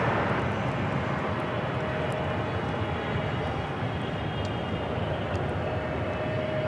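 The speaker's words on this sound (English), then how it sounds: "We have Korean Air Cargo 777 freighter just touched down, coming in from Seoul, flight 8207." A Korean Air Cargo Boeing 777 freighter from Seoul touches down at LAX, heard as a steady, loud broadband jet roar with a faint whine, continuous and without voices.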